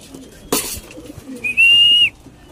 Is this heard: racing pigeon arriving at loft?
yes